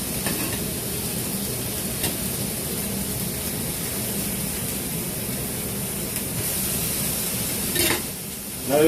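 Salmon fillet sizzles steadily in a hot frying pan, a loud continuous hiss with brief louder spurts near the end and no talking.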